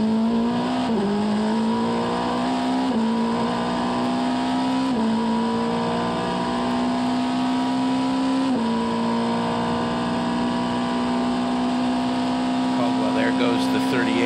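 A race car engine at the 24 Hours of Le Mans drones steadily, with its pitch dropping in several small steps as it shifts down through a chicane, under continuous commentary.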